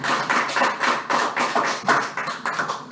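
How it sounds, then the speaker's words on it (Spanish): A church congregation claps together in steady, rhythmic bursts, a dense, full-room applause that pulses evenly for several seconds without any talking. "démosle un aplauso al Señor"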